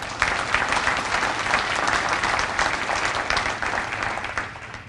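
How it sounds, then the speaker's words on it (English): A dense, steady round of audience applause at a State of the Economy event for the Bowie Chamber of Commerce, a continuous wash of many hands clapping that holds at an even level throughout. "Can we give them another round of applause?"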